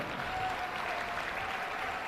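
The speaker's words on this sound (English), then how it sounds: "And one more big round of applause for our exhibitors back here showing the animals." Audience applause at a youth livestock show ahead of a swine show, a steady sustained patter of many hands clapping, even and moderately loud throughout, with a slight murmur of voices beneath.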